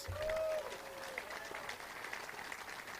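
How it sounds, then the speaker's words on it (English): Crowd applause at an outdoor pride flag raising at Fresno City Hall, a soft, distant patter of clapping with a brief voice or whistle near the start. "Let us give Peter Robertson a huge round of applause and heartfelt thanks."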